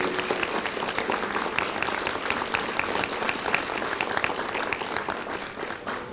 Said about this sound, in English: Let's give them a round of applause for all of their hard work and dedication today.